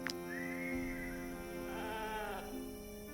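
A sheep in the Wartales role-playing game gives two wavering bleats over a steady background of game music, close and clear, with no talking.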